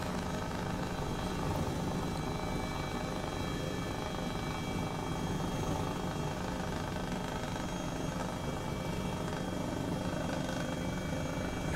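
A Mil Mi-2 Hoplite helicopter in Microsoft Flight Simulator flies over Wuppertal, its rotor and turbine roar forming a dense, constant wash that stays loud and unchanging the whole time, with no voices.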